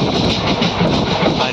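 A train runs fast along tracks lined with dense trees and jungle, giving a loud, continuous close rumble with rapid wheel clatter.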